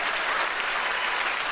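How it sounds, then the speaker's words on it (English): Audience applause at a stand-up comedy show, a brief dense burst of clapping from a crowd, fairly distant and steady throughout. "Guess I'll give them one more round of applause."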